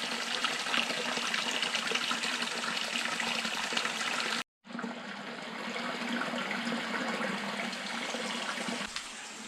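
Spring water pours steadily out of the rock on the Lost Valley Trail near Ponca, Arkansas, making a continuous, close rushing splash that drops out for a moment partway through.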